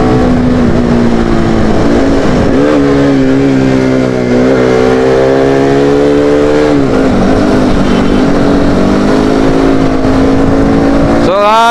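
Group of motorcycles riding together at full power, engines revving loudly and close with rising and falling pitch sweeps, constant roar and wind throughout.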